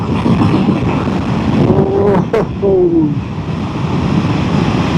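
Strong, steady wind roar buffets the microphone while riding a 2025 Triumph Tiger Sport 800 motorcycle at speed, with a faint brief voice partly masked by the rushing noise.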